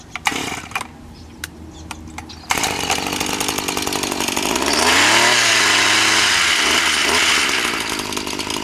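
An aquatic vegetation groomer weed cutter slices through cattails at a pond or lake edge, a loud buzzing chainsaw-like whine starting abruptly after a few light taps, then rising and sustaining at steady, close volume.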